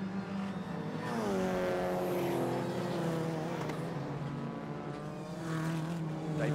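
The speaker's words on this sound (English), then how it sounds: "The whine from the supercharged engines as they drop down the hill once more into paddock" Supercharged rallycross car engines at Lydden Hill whine steadily as the cars drop downhill, a loud continuous rising and falling engine drone with overlapping high pitched tones.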